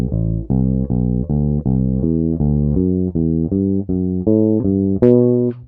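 A bass guitar plays a one-octave ascending interval drill, with about a dozen evenly paced, sustained notes stepping upward, each clean and close, ending on a brighter, sharper final note.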